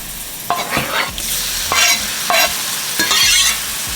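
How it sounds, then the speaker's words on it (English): Lobster pieces drop into a hot pan for creamy lobster pasta, setting off a steady sizzle and frying hiss, with several sharp stirring scrapes and clatters spaced across the few seconds, close and fairly loud, no voices. "also going to just add my lobster pieces"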